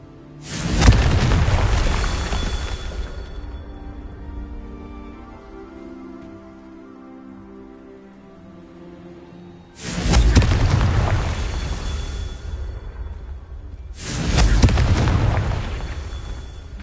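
Confringo fire spell explosions in the video game Hogwarts Legacy: three loud, booming blasts, each a sharp burst that rumbles and fades, the first followed by a long lower tail, the last two coming closer together.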